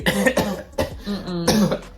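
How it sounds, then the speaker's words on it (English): A few close, harsh coughs sound in quick succession, raspy and throaty, with a brief gap between bursts. "That cough."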